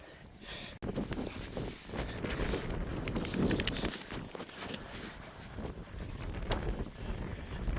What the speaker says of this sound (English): The wind's a bit bonkers